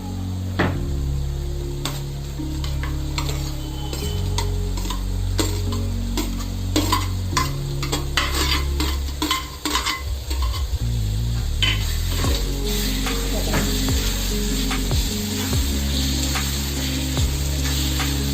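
Tomatoes fry in hot oil in a pan while a spoon stirs and scrapes through them, giving a steady sizzle with scattered clicks and knocks. A low hum runs underneath throughout, and no one speaks.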